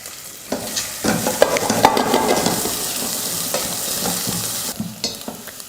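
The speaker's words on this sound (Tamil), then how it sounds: "வெங்காயம் பூண்டு இந்த அளவுக்கு ஓரளவுக்கு வதக்கணும்." Chopped small onions and garlic sauté in a hot pan, with a steady close sizzle and repeated scraping stirs of a spoon against the pan.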